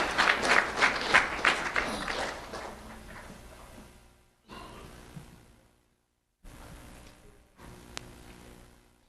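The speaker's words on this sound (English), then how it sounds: "Let's have a round of applause for Janessa De Jesus." An audience claps for a kindergarten student honored at a sheriff's office recognition event, a brisk burst of applause that thins out within a few seconds into quiet room noise.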